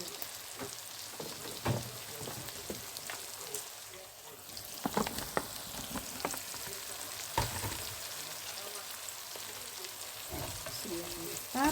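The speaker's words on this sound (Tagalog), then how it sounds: "halu-haluin natin para sumuot yung kanyang chicken cube sa karne" Ground meat seasoned with a chicken cube being stirred in a frying pan, a steady soft sizzle broken by scraping and clacking utensil strokes at close range.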